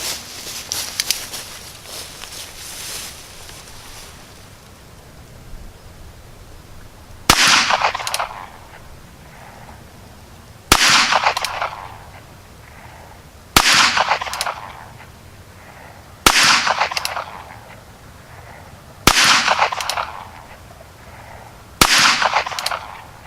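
Ruger Wrangler revolver fired at 7 yards at an outdoor range: six sharp, loud single shots spaced roughly three seconds apart, each trailing off in a brief echo, with no talking.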